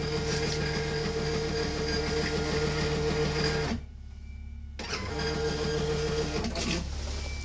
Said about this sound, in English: that's just printed off a massive set of paper with all the little logos we've got on the R machine